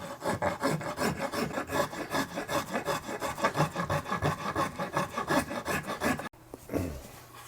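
A half-round Niwasaki rasp chamfers the edge of a wooden guitar body in close, steady back-and-forth strokes, a rapid rhythmic scraping for about six seconds that stops abruptly, leaving quiet handling afterward.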